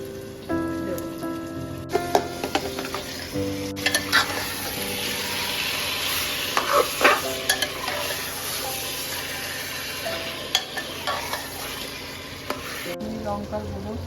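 Marinated mutton sizzles and fries in a hot pan while being stirred, with loud continuous crackling and scraping stir strokes, close up, alongside some music.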